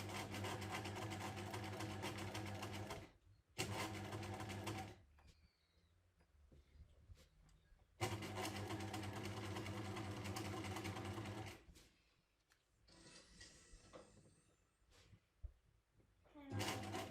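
A sewing machine stitches along piping cord with the presser foot held against the piping edge, running close and steady in several long bursts separated by quiet pauses.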